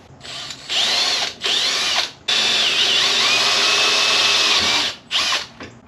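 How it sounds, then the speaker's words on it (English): A power drill bores a hole for a homemade potato cannon in loud, close whining bursts: two short runs, one long sustained drilling, then a brief final burst, with short pauses between. "I drilled the hole too big"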